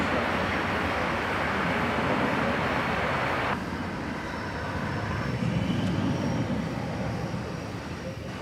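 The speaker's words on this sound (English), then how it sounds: "It's a Cessna 208B Grand Caravan" A 2002 Cessna 208B Grand Caravan turboprop at Dallas Fort Worth airport gives a steady, loud engine roar that holds throughout, easing slightly partway through.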